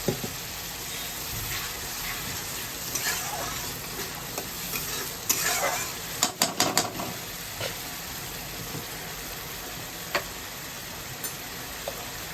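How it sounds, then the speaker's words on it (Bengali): Fish curry masala sizzles loudly in the pan while being stirred after a splash of water, with a constant frying hiss broken by a cluster of sharp scraping clatters midway and a few lone knocks later; no talking. "এবার একটু জল দিয়ে দেবো, একটু জল দিয়ে ভালো করে কষাবো।"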